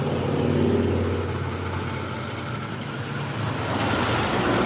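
A large city bus on Colfax rumbles in with heavy engine noise and a hiss of air brakes, loud and close amid steady roadway traffic, no voices over it.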